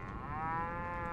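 A cow moos in the video game Głupki z Kosmosu, one drawn-out, close, fairly quiet call heard on its own.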